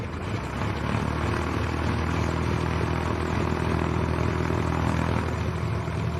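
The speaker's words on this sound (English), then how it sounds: "Okay, the old plane starting up, the old biplane." An old biplane's engine starts up at Leeds East Airport, catching after a moment and then settling into a steady, loud propeller drone that holds close and unbroken.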